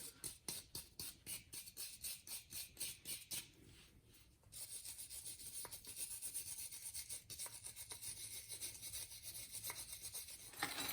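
Rhythmic scrubbing strokes on a rear brake caliper bracket of a 2012 Subaru WRX, close and fairly quiet, settling into a steady continuous rasp after a short pause.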